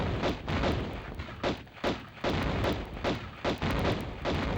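Rapid, repeated gunfire from the PS1 game Tomb Raider, loud, dense bursts of shots in quick succession with short gaps, continuing without pause for reloading, no talk.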